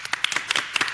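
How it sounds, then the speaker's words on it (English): A few sharp, separate hand claps at a board of education meeting, a sparse burst of individual claps close by rather than a full ovation. "A round of applause one more last time for them."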